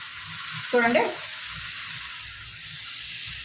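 Karam dosa with an egg fries on a hot pan, giving a soft steady hiss and sizzle, with a brief louder burst near the start.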